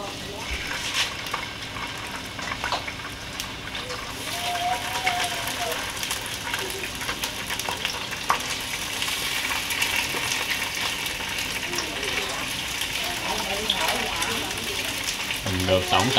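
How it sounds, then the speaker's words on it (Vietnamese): Mackerel scad fish fry in a pan with a steady, close sizzle and crackle that holds throughout, while people talk nearby. "em mình đang chuẩn bị chiên cá nè"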